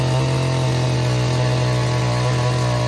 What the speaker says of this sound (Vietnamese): Máy khoan đất Takeo TK3B có hệ thống tay đẩy bánh xe giúp di chuyển dễ dàng và thao tác một người khoan rất là nhẹ nhàng